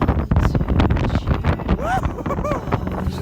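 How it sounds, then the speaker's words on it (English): Gusty wind roars and buffets the microphone outdoors while cycling in Wales, a loud continuous rush with a few brief whistling, voice-like tones near the end. "The wind and rain is certainly picked up."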